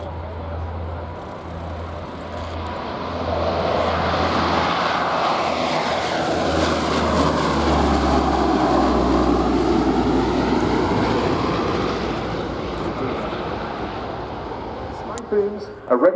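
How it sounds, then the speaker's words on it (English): Eurofighter Typhoon jet engines at an air show, a loud sustained roar that swells and sweeps across the field for most of the span, with crowd ambience and a few sharp knocks near the end. "Typhoons are ready for launch."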